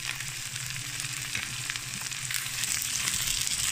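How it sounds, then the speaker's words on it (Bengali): Ginger, garlic and onion paste frying in a pan for a bottle gourd and shol fish curry, giving a dense, continuous close sizzle that swells slightly toward the end, with no voices. "আদা রসুন পেঁয়াজ আমি ভালো করে কষিয়ে নেব।"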